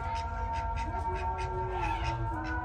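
A cat meowing at a cattle farm: drawn-out, wavering meows close by over a steady low background hum, with no talking.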